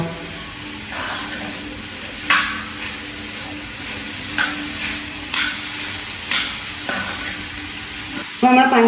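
A spoon stirs a sticky mix of mashed banana and sugar in a bowl, making a constant soft hiss broken by regular scraping strokes every second or so.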